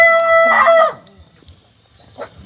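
A rooster crows once, loud and close, followed by a short, fainter call a moment later in an otherwise quiet farmyard.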